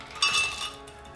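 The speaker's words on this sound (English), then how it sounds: "Now we're also going to add 1 whole cup of ice cubes" Ice cubes clink against glass as a cup of regular cubes goes into a blender for a butterbeer smoothie, one short bright rattle that fades within a second, with no talking.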